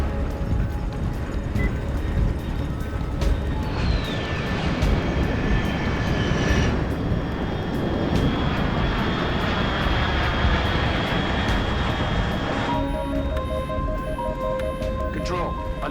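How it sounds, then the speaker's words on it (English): Aircraft engine in the Metal Gear Solid Delta: Snake Eater game, a steady loud droning roar that runs throughout under music and effects. "Unidentified aircraft detected."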